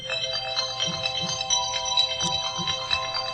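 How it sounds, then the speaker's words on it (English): A phone ringtone plays steadily throughout, a bright repeating electronic melody with soft low taps beneath, moderately loud and with no talk over it. "Phone call."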